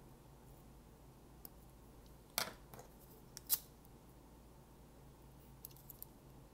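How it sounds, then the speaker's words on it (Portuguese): Faint, close snips of scissors trimming excess polypropylene crochet yarn, a couple of sharp cuts with light clicks around them in a quiet room. "Pode cortar bem com cuidado, ó. Tirar o excesso, tá?"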